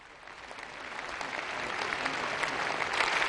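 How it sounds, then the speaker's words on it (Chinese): Sustained applause fills a large political assembly hall at a national conference session, a dense steady clapping that grows slightly louder throughout. "全场响起长时间的掌声"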